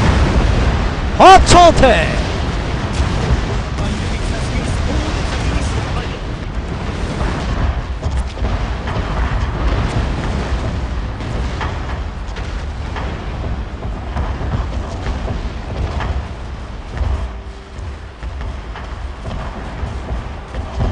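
Joseon Singijeon rocket volley in the Shogun 2 battle game, a loud burst of launch blasts followed by a long, rumbling roar of many rockets firing and streaming, with someone shouting a command at the start.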